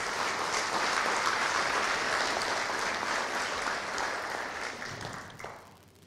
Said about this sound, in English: I'd like to basically have you extend an applause to this group.